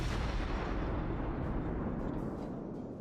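Heavy ship guns in a naval battle video game boom out in one deep, rumbling salvo that slowly fades over a few seconds, with no voices.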